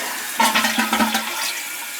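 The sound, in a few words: toilet flushing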